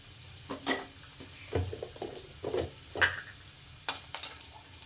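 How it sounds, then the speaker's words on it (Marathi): Garlic dropped into mustard seeds crackling in hot oil gives a soft, steady sizzle, broken by sharp clicks and light scrapes of a spoon against the pan. "मोहरी छान तळतळली की त्यामध्ये टाकायचं आहे आता लसूण."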